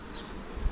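Honey bees from a nucleus colony buzz at the hive, crowding under its little roof; a brief, soft, steady hum with a faint high whine, ending in a low bump.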